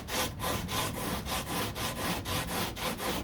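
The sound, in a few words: hand sanding Corvette door body filler with hard block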